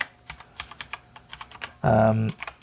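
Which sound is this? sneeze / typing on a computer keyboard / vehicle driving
typing on a computer keyboard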